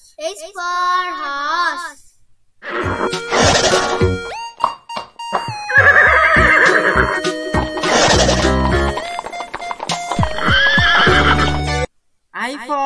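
A horse neighs and whinnies with clip-clopping hooves, loud and close, the neighs opening and closing the passage while a children's alphabet phonics song with singing fills the middle.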